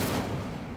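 An Incendio fire spell from the Hogwarts Legacy video game bursts out as a loud, dense, roaring blast that fills the short moment and fades slightly at its tail, with no talking.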